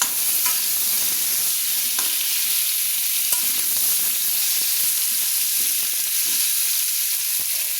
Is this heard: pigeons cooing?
no